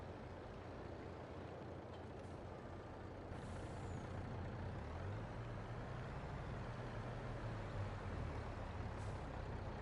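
Low, distant rumble of semi truck engines from a nearby highway, steady and faint, with a brief hiss of air brakes.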